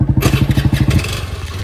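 A motorcycle engine runs close by with steady, rhythmic thumping pulses that ease off toward the end. No one speaks.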